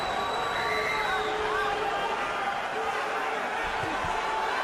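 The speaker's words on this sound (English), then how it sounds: "And you hear the adoration of the crowd." A large arena crowd at a Manny Pacquiao versus David Diaz boxing match keeps up a dense, loud roar of cheering and hubbub throughout, with scattered whistles and a commentator's voice underneath.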